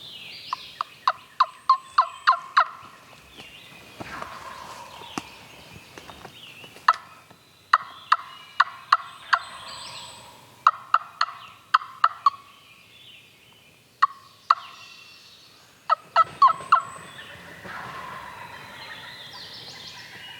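Wild turkey gobbling repeatedly from a young male in a field corner at the edge of public land woods, late season, loud rattling bursts in clusters with pauses, moderately distant, other birds faintly around.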